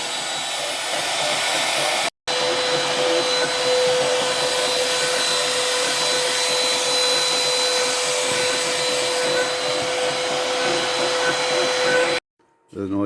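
Oliver CNC router carving a QR code into a board, a steady loud whine and hiss of the spinning spindle cutting continuously, broken by two brief silences.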